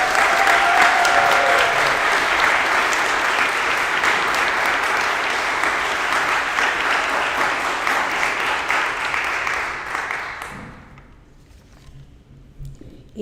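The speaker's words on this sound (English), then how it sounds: "Please join me in a round of applause for these outstanding thespians." Sustained, loud applause from an audience at a school fine arts awards assembly, honoring theatre award winners; steady clapping that fades out near the end.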